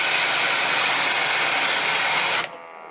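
A Bunn coffee mill grinds coffee on a coarse level-two setting, a loud steady whirring roar that runs for about two and a half seconds, then cuts off abruptly into a faint motor spin-down.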